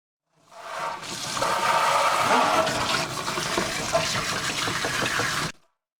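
Hot water runs from a tap onto doll hair in a sink, a steady close splashing rush lasting about five seconds before stopping abruptly.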